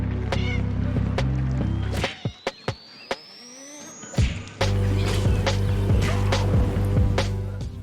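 A cat meows several times in an indie video game trailer, sharp and close, mixed with scraping and thumping game effects and a background music drone.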